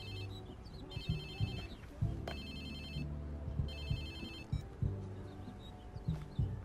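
A new phone ringing in Watch_Dogs 2 video game, a repeating electronic trill in regular bursts over a busy low ambient bed, fairly faint and without speech.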